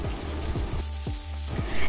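Ridge gourd with a little salt is turned in a pan, giving a close, fairly loud sizzle and rubbing scrape with a few rhythmic sweeping strokes over a couple of seconds.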